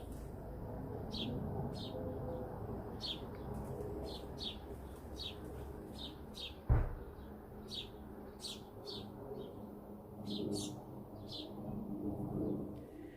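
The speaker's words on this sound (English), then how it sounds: "Sparrows. Lots of sparrows up there." Many sparrows chirp repeatedly from somewhere above, bright short tweets in irregular bursts over a low outdoor hum, with a brief thump partway through.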